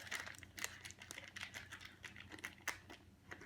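Soft plastic crinkling and rustling close by, a series of small crackles as a plastic bag holding wild yeast starter for bread is pressed flat.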